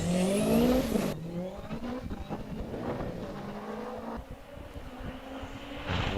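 A Subaru Impreza tin-top race car on a hillclimb run at Wiscombe Park screams loudly past at first, then fades to a more distant engine note as it brakes and climbs away through the corners.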